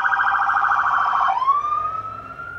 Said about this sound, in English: Excuse the siren noise because we live right next to the hospital.